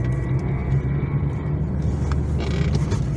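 A car rolls along a district road toward a village in light snow, giving off a continuous low rumble of tyres and engine with faint scattered rattles.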